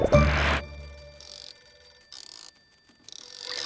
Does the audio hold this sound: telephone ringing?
yes